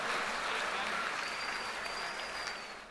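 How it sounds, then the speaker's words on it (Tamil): An audience at a Pongal special pattimandram comedy debate show in Madurai claps in a dense, steady burst of applause that carries on throughout and eases slightly near the end. "பெரிய கரகோஷம் கொடுத்து வரவேற்கிறேன்"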